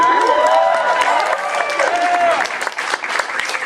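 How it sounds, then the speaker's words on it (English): An audience at a voice actors' round-table panel cheers and applauds loudly in a dense sustained wash of clapping, with shouts and voices mixed in. "let's have a cheer for booze, shall we?"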